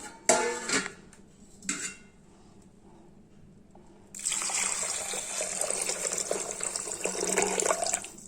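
Water pours steadily into a pot of black urad dal and rice for several seconds after a few brief clinks and taps, with no talking.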